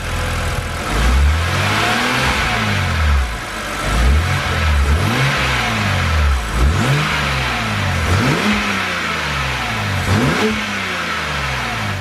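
A BMW N52 car engine with a standard air filter revs up and down repeatedly, rising and falling in pitch in a steady cycle, loud and close, with no talking.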